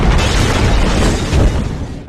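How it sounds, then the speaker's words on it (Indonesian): A planted bomb detonates at a farm in a Jackie Chan film, a loud, sustained explosive roar filling the whole span and fading slightly at the end. "hingga bom itu pun meledak."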